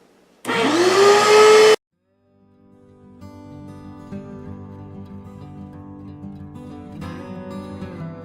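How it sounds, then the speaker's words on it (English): Vacuum cleaner sucking dirt and creosote out of the top of a wood stove during flue cleaning: a loud, close motor whine that runs briefly and cuts off, then a softer, steady tonal drone that rises and continues. "I'm just going to turn the vacuum on, and I'm going to suck the dirt and creosote and whatnot out of the top of the stove"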